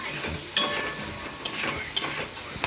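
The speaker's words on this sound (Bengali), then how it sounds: "সর্ষে পেস্টটা অ্যাড করে দিলাম, দিয়ে ভালো করে কষিয়ে নেব" Mustard paste fries in a pan for an egg and potato curry, a soft steady sizzle broken by four or five sharp scrapes of a spatula stirring at regular intervals, with no talking.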